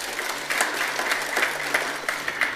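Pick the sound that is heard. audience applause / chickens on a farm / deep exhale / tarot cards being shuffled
audience applause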